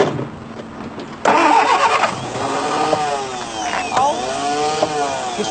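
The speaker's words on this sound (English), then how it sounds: "Switch the engine on and rev it gently." A car engine starts up and revs gently, a steady mid-pitched running note with rising and falling harmonic sweeps after a quiet opening second; no talk.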